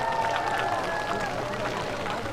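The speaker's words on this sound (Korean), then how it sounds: "뜨거운 박수를 보내주고 계시네요" A festival crowd at the opening ceremony of the 2024 Namchangcheon light festival claps steadily in a dense, continuous wash of applause with crowd murmur beneath, heard at a distance from an outdoor stage.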